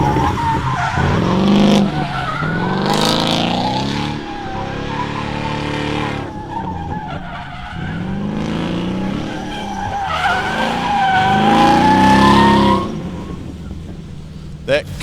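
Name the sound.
drift car starting its run, tyres skidding and squealing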